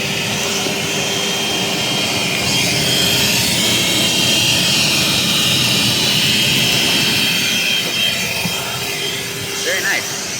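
A Kobalt 24V cordless vacuum runs steadily, its motor giving a continuous whooshing whine with a high tonal edge that holds for about ten seconds without pause.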